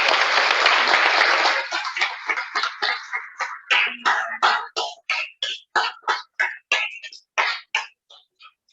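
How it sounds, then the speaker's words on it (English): An audience at an annual meeting of the Catawba Riverkeeper breaks into a round of applause, a dense wash of clapping that thins after a couple of seconds into a steady run of separate, fairly close handclaps fading toward the end. "Let's give a round of applause for those guys."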